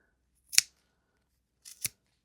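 Two quick snips of scissors cutting yarn for a macrame craft project, close and crisp, separated by about a second of silence.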